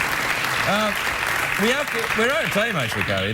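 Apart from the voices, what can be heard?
studio audience clapping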